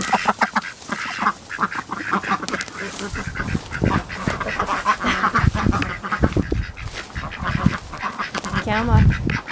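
Domestic ducks calling outdoors in the early morning, a near, repeated chorus of quacks and honks, with a person talking over them at intervals.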